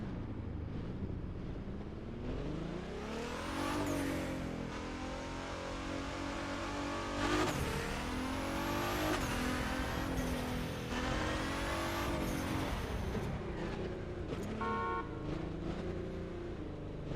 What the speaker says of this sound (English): Like the blow-off valve sound is different.